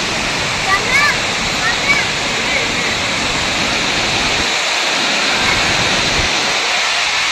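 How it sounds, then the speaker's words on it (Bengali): Dassam Falls pours a large volume of water in a loud, continuous roar heard up close, a broad steady rush that fills the whole clip, with brief voices faintly underneath. "একদম সামনে থেকে দশম জলপ্রপাত। প্রচুর জল জল যাচ্ছে।"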